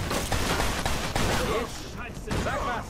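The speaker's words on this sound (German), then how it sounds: "Da schießen welche." Gunfire in the video game Mafia 2 rattles in dense, rapid bursts that fill the scene, loud and continuous with brief gaps, mixed with game noise.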